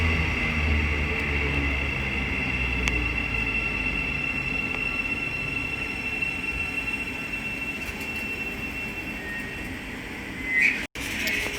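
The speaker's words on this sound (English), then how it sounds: "now departing is the 1421 Thameslink service" A Thameslink train departs Hitchin station on the East Coast Main Line with a sustained rumble and a high squealing whine from the wheels, steady throughout and briefly swelling near the end.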